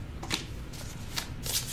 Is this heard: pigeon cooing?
no